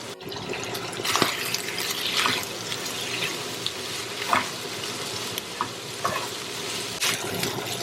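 Spoon stirring sauce through a stuffed bell pepper filling in a pan, soft wet scraping and sizzling with a few louder clinks, close and continuous without talk.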